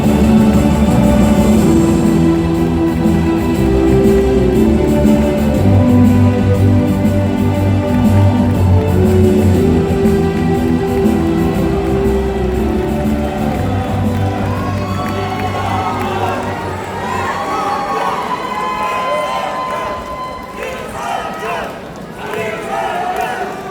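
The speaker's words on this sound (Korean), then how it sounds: "기호 6번 이성윤 후보의 연설 이어지겠습니다. 박수 부탁드립니다." A party convention crowd in Gwangju and South Jeonnam roars with applause and cheering as a candidate is introduced, loud and sustained at first and then thinning toward the end, with voices and shouts mixed in.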